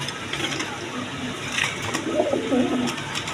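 Two magpie pigeons coo softly in a low, repeated murmur, with a few brief clicks and a steady faint background hiss.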